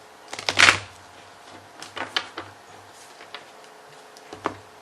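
Angel and Ancestor oracle cards are pulled from a deck, producing a burst of close card shuffling followed by scattered light clicks and taps as the cards are handled.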